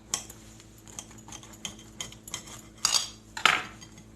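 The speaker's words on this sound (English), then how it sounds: "So I like to cut my sandwich in half." A knife cuts through a microwaved egg sandwich on a plate, making light scraping and clinking taps close by, ending in a couple of sharper scrapes.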